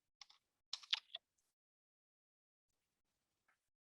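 Brief flurry of keystrokes on a computer keyboard, a few quick close clicks followed by near silence and one faint tap.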